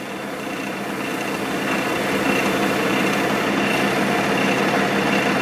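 Wood lathe spinning an osage orange vase blank at about 1000 RPM, a steady continuous mechanical whir and hum that rises slightly in level early on and then holds constant, alone with no talk.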